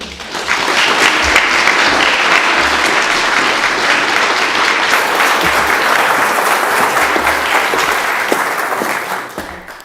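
A lecture audience at Wolfson College applauds warmly to welcome the speaker to the stage for the Berlin Lecture. The clapping is loud, full and sustained for nearly ten seconds, then fades at the end, with no voices over it.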